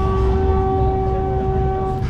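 A Vande Bharat Express train pulling out of Alwar Junction in Rajasthan gives a steady, loud rolling rumble with a sustained tonal hum over it, continuous for the whole stretch.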